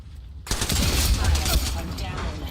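Sudden loud automatic gunfire in the video game Apex Legends erupts after a quiet moment and continues as a dense, close volley with a noisy game background.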